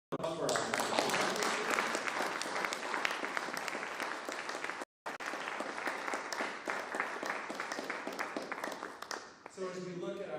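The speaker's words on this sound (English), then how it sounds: "please give another round of applause for our" Sustained audience applause fills a conference hall, dense overlapping clapping from many hands at steady volume, broken by a brief gap midway, with the crowd noise continuing to the end.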